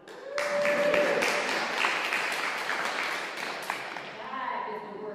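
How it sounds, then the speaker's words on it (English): Applause from a church congregation honoring a parish that donated 245 backpacks to Samaritan House: dense, steady clapping that swells quickly near the start, lasts about four seconds, then thins out under brief background voices. "Yeah, you can clap for them."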